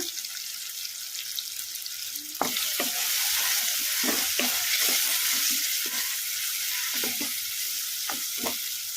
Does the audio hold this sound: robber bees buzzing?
no